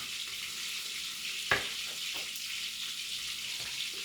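Onion sautéing in a pan while cooking lunch, a soft steady sizzle with an occasional sharp tap or utensil scrape.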